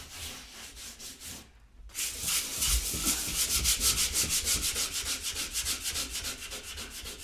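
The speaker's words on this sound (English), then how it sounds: "So I'm just going to go onto a rough little piece of sandpaper, which is a little bit fresher" Rough, fairly fresh sandpaper rubs over plaster filler on a plasterboard wall in a steady run of rhythmic back-and-forth scrapes, close and continuous after a brief pause near the start.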